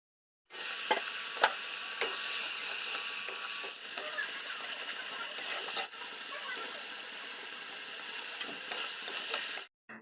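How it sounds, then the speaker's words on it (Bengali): Fish fries in oil in a home kitchen pan, a continuous close crackling sizzle with a few sharper pops and a brief scrape as it is turned, holding steady for about nine seconds. "মাছ ভাজা প্রায় হয়ে গেছে তো ও পাশটা উল্টে দিলাম"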